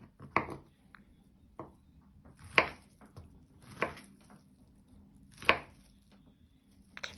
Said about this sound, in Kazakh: Мен халал шұжық алдым. Осылайынан бұны да төртбұрыштап турап аламыз.